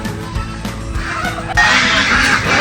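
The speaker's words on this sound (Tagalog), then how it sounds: "Yung mga pabo natin oh." Farm turkeys gobble loudly and close, with repeated calls over a busy outdoor background that grows noisier partway through.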